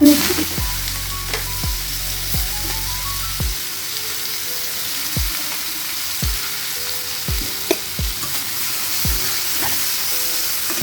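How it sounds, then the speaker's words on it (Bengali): Onions sizzle loudly in hot oil with bay leaf, a dried red chilli and whole garam masala for a Bengali yogurt katla curry, a steady close fry broken by regular knocks of stirring. "পেঁয়াজগুলো দিয়ে ভালো করে একটু নেড়ে নেবো"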